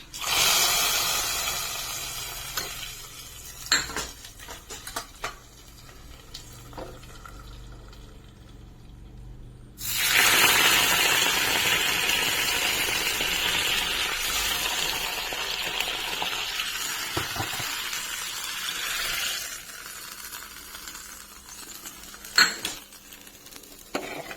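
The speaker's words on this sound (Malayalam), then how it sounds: "ഇനി ഇതിലേക്ക് നമുക്ക് കടുക് തളിച്ചിടാം" A mustard-seed tempering with dried red chillies and curry leaves is poured into prawn curry, setting off a loud, sustained sizzling hiss that lasts about ten seconds before fading, with a few utensil clinks around it.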